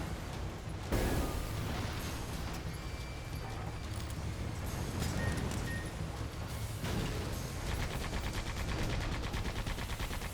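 Dense, continuous gunfire and explosive bursts from the Sandland video game, a loud, steady barrage that runs throughout with no pause, a sharp flurry of shots breaking in near the start.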